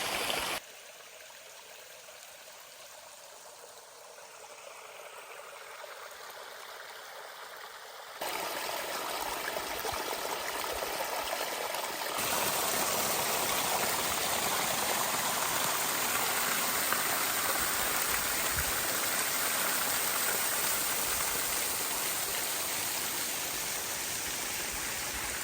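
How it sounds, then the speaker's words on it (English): Creek water trickles down over snowy ground along an Ozark Mountains trail, a steady hiss of running water that grows fuller and louder partway through and then holds. "I don't know if it's a part of a wet weather creek up here where it's trickling down"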